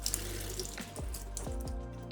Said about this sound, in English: Keep rinsing until the water runs clear.